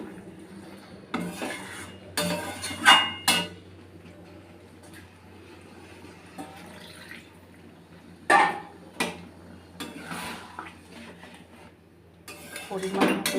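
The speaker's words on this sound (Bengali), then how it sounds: "দেখো এবার এটাকে নেড়ে ছেড়ে জল দিয়ে দেবো।" Spice paste of ground cumin stirred with soft, melted aubergine in a pan, close metallic scrapes and clanks of a utensil against the pan in bursts, with quieter stretches between.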